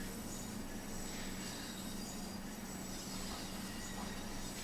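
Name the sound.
BR 112 locomotive wheels clattering over switches, Train Sim World 5 video game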